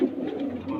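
Low Flyer pigeons kept at a home loft coo in a soft, low, throaty rolling call, close and fairly steady, with faint background sound.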